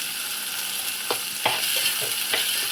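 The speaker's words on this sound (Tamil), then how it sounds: "நல்லா வதங்கட்டும்." Ground spices and chilli powder sautéing in hot oil in a pan for Tamil appalam kuzhambu, a steady bright sizzle with a few soft stirring scrapes, close and alone.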